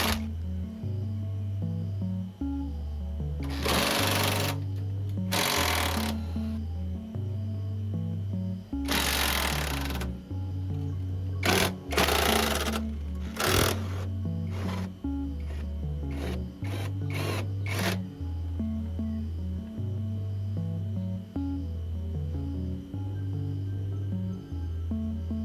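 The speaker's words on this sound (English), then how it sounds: "So now I'm removing the last mounting which is at the timing set side." A power tool runs in a steady, pulsing mechanical rhythm while removing the last engine mounting bolt on the timing side during engine removal, with sharp bursts of ratcheting and clanking mixed in.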